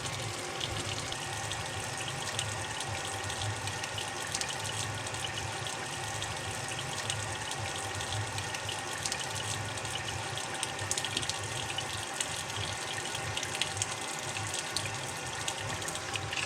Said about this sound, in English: So you just want to put some water in.